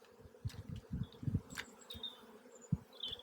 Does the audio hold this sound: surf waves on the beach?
no